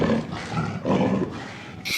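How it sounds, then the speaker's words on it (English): A panther roaring, with two or three rough, throaty roar bursts that swell and fade close up, then a brief sharp noise at the very end. "Panther roars."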